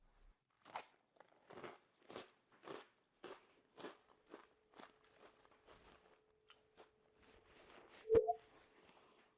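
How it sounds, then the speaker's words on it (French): Crunchy Cheetos topped with peanut butter are chewed up close, a regular series of crisp bites and crunches that fades into softer chewing, then one sharp clack. "Les Cheetos croustillants ajoutent beaucoup de croquant."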